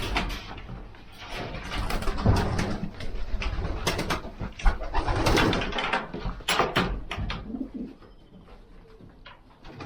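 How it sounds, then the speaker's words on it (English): Young racing pigeons coo steadily in a loft, a dense close chorus of throaty calls with wing flutters and shuffling throughout, no talk. "There's the youngest young birds."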